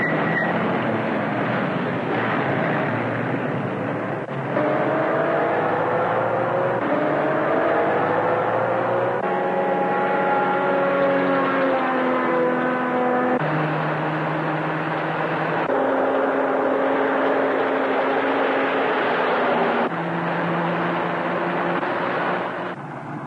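A car engine drives off in pursuit, a continuous loud motor with shifting tones that rise and fall through gear changes, holding steady and close throughout.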